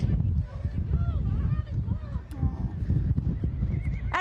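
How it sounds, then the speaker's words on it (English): Several horses neigh loudly and their hooves clip-clop close by on a busy street with media crews present. People talk over the steady hoofbeats and whinnies throughout. "we got a lot of media and a lot of horses, and we got another one running towards us again"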